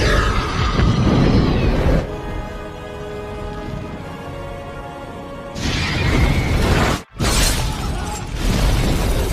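A loud crashing explosion at a hospital, with debris and rumble, followed by a quieter stretch with a steady tone, then another burst of noisy destruction after a brief dropout.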